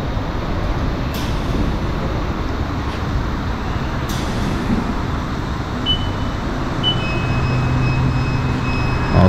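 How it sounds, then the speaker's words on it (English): A tire balancing machine at a shop spins a wheel with a steady, loud, broadband rumbling whir over shop noise, with a few faint clicks and high tones near the end. "This is the tire balancing."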